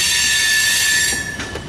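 A CSX mixed freight train pulled by AC locomotives passes close by, loud and continuous, with high squealing wheels and a steady rumble of rolling cars and no talking.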